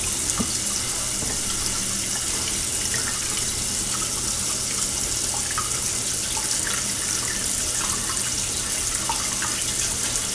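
Cold tap water gushes steadily from a faucet over a frozen turkey in a sink, a loud, constant splashing hiss that continues without pause and without talk.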